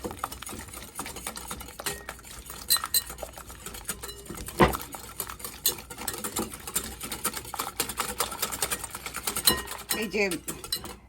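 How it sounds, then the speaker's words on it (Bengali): Eggs being whisked with two tablespoons of powdered sugar in a bowl for a layered cream cake, giving a busy, continuous clatter and scraping of utensil against the bowl for about eleven seconds, close and fairly loud. "এখন ডিমের সাথে ভালোভাবে ফেটিয়ে এটাকে মিশিয়ে নেবো"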